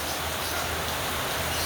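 Steady rain falling on plants while the sun still shines, an even hiss of close, fairly loud rainfall with no voices.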